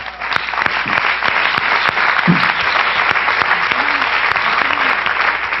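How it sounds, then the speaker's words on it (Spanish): Loud, sustained applause from a congregation during a church service, dense clapping that fills the room steadily throughout with a few voices calling out underneath. "Démosle un aplauso al Señor."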